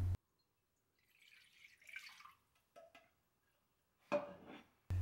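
Thirteen ounces of warm water poured for no-knead bread dough: faint, brief trickles and splashes separated by near silence.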